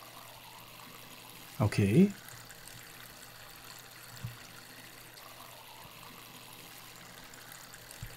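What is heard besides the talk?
watering plants with a watering can in Weed Farmer Simulator video game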